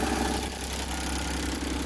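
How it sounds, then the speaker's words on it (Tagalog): A Suzuki DA17V minivan engine idles steadily with a dense, even hum and vibration, loud and close with no talk, as if just started from cold. "papaandarin ko naman guys. Tignan natin yung makina kung maganda tunog"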